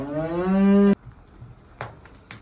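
A cow on a Karnataka dairy farm gives one loud, close, rising moo, followed by quiet shuffling and faint knocks.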